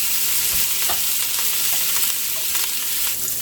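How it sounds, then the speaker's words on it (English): Sausage rounds frying and caramelizing in a pan: a loud, dense, steady sizzle close up, with occasional soft scrapes from stirring and no voices. "We're going to add in the sausages first. I'm going to caramelize things a little bit."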